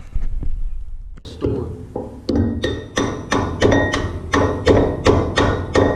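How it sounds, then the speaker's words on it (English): A hammer drives a roll pin out of the knotter on a Massey 1800 baler, ringing metallic blows in a steady rhythm, about a dozen sharp strikes growing quicker and louder after a short pause. "from right there I can drive the roll pin straight out that side"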